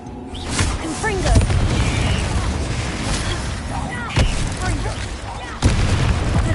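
Confringo explosion spells booming in Hogwarts Legacy combat, several sharp blasts at irregular intervals over continuous battle noise, with game voices and chatter throughout.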